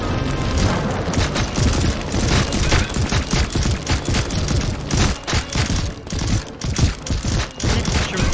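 Dense, continuous gunfire blasts from a VR dungeon-crawler game, rapid overlapping shots and booms filling the whole stretch at high volume with no pauses.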